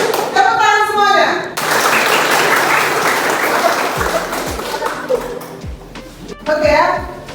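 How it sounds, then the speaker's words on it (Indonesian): A classroom of children claps together in a sustained burst of applause, loud and dense, with a teacher's voice before it and children's voices and some desk thumps after. "Tepuk tangan semuanya."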